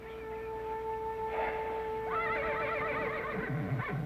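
A horse whinnies in a long, wavering call that rises and shakes, close and clear, over a steady electrical hum with no talk.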